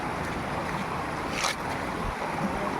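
Water rushing steadily at a waterfall in Assam, a dense, continuous roar filling the whole short stretch, loud and close with a little wind buffeting and no talking.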